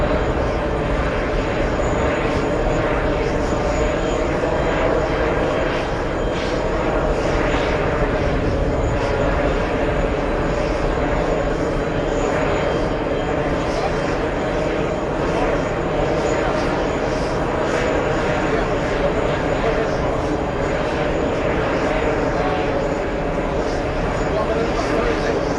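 Jet airliners at JFK airport roar steadily and loudly throughout, a continuous broad engine rumble with faint voices beneath.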